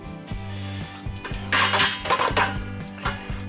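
A cooking pot handled at a kitchen sink, giving a few metallic clanks and scrapes over a steady background hum, close and moderately loud.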